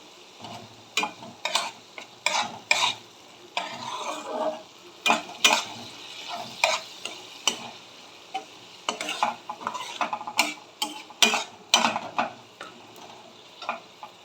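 Tomato masala with whisked sour yogurt stirred and sizzling in oil in a pan for paneer masala, with repeated scraping strokes of a spoon over a steady close fry, no talking.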